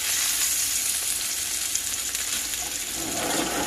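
Squash and onions fry in a pan with a steady, close sizzle that runs evenly throughout, with no talk.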